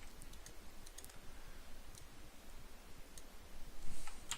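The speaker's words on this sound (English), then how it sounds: "I'm typing on my other screen, for those that are confused." Typing on a computer keyboard, a steady patter of soft key clicks with occasional sharper taps, close and fairly quiet, with no talking.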